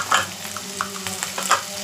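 Curry leaves and chopped onions sizzle in a hot pan, with a few quick scraping stirs over a steady frying hiss.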